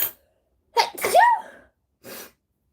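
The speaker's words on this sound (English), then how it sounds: "And I'm gonna sneeze." A woman sewing a garment sneezes once loudly and close, with a sharp inhaled lead-in and a forceful burst, followed by a short breathy sound after a pause in a quiet room.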